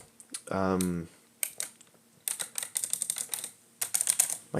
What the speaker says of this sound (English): This keyboard's really loud.